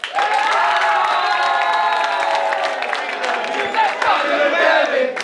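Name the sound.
crowd applause and cheering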